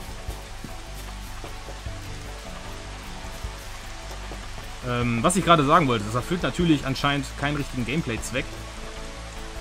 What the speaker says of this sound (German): wie der Regen auch schön in dem Wasser hinein plätschert